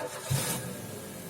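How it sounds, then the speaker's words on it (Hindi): A WagonR car's engine catches with a brief low thump and settles into a faint, steady hum, heard quietly for just over a second. "तो ये देख सकते हो जो इंजन नॉइस है।"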